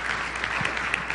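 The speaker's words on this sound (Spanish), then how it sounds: "si no hay más preguntas, un fuerte aplauso para Gian Pietro." Audience at a technology conference applauding in a hall, a brief dense wash of steady clapping.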